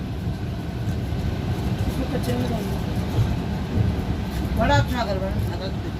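Onboard rumble of the Telangana Express passenger train in motion, a steady low rolling roar with faint rail clicks throughout and a few brief squeals near the end.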